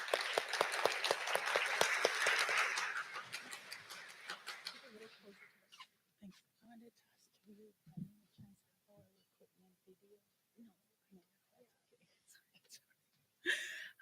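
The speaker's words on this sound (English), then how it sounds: "So yeah, round of applause" At a hackathon opening ceremony, an audience claps in a dense burst of applause that fades out over several seconds, then a person begins speaking.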